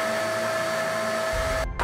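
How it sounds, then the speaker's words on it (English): A vacuum cleaner runs with a steady whining roar during aluminium vacuum casting, a low rumble joining near the end before a brief cut-off. "do a vacuum casting with a vacuum cleaner"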